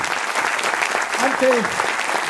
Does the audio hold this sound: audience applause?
yes